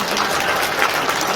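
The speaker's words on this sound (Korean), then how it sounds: "희망적이고 그리고 열정적인 강의해 주신 정봉주 의원님께 다시 한번 큰 박수 부탁드립니다" Audience applause after Jeong Bong-ju's political reform lecture in a conference hall, a steady wash of clapping from a crowd filling the short moment with no talk.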